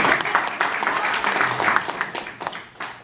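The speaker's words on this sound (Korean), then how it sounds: "박수 한번 주세요" An audience at a talk breaks into applause that runs for about three seconds. The clapping is fairly dense at first and thins toward the end.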